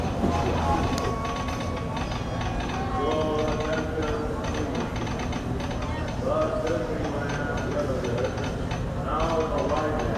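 Steady rolling and rumbling of the Disneyland Railroad train on its ride around the park, with faint clickety-clack and mechanical rattles throughout and some voices mixed in.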